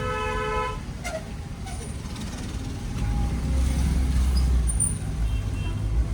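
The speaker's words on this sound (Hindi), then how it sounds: "Horn horn horn." A car horn toots amid busy city road traffic, with steady engine rumble and passing vehicles throughout and a few short horn blasts near the start.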